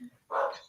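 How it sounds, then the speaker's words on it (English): A single dog bark from somewhere in a home, fairly faint and brief, following a quieter short sound. "My dog's barking."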